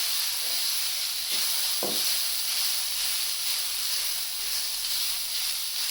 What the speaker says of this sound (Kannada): ಇದೊಂದು ನಿಮಿಷ ಫ್ರೈ ಆಗಲಿ